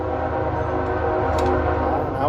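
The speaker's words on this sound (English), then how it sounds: "Now we got a train." A train passing near an outdoor spot, a loud continuous rumbling roar with a steady horn-like tone running throughout, close and constant.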